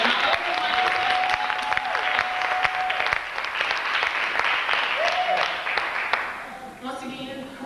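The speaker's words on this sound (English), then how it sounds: "Give everyone a round of applause" A crowd at a poetry reading gives sustained applause, steady clapping that fills the room while a voice speaks over it near the end.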